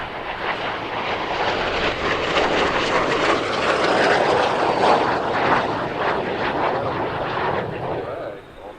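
A T-33 jet trainer coming in to land at an air show gives a broad, rushing jet roar that swells and then fades slightly. The roar carries steadily for several seconds with no speech over it.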